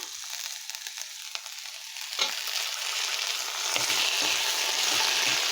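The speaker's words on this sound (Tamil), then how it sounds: "வெங்காயம் தக்காளி நல்லா வதங்கட்டும்." Onions, tomatoes and curry leaves sautéing in a pan for bitter gourd curry, a bright continuous sizzle that grows slightly louder, with soft stirring scrapes and no talk.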